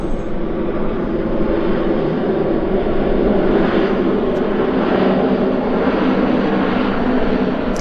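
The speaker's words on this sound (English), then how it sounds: "here's another Dash 8 rolling out." A Dash 8 turboprop rolling out at Vancouver Airport, its steady engine drone and broadband roar continuous and fairly loud throughout.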